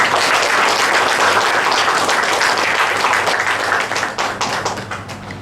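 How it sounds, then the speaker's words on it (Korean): A room of guests at a book launch gives sustained, dense applause that stays loud for several seconds before tapering off near the end. "박수 한번 보내주십시오."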